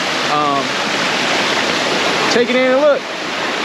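Cataract Falls on Mt. Tamalpais roars as a loud, steady rush of falling water, with someone talking briefly over it.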